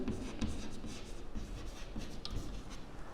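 Numbers being written by hand, a close, continuous scratchy stroke sound with small pauses between marks, steady and moderately loud.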